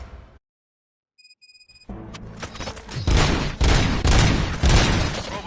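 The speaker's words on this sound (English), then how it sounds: "Gunshots? What's going on?" Gunfire in the video game RoboCop Rogue City: after a brief silence, a dense, loud burst of rapid shots and thuds that continues steadily to the end.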